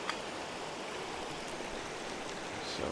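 A pot of water simmering for coffee gives off a steady, even hiss of small bubbles, close by and unbroken for the whole stretch.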